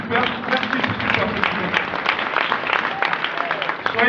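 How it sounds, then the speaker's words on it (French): Church congregation applauding, a dense, steady wash of clapping from a crowd indoors, continuous throughout with a voice speaking over it. "Recevez encore une acclamation plus grande que ça"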